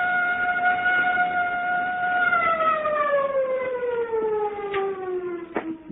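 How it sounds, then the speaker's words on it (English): A loud, steady siren wail with strong harmonics slowly falling in pitch as it winds down, with a couple of faint clicks near the end. "First, the siren must stop."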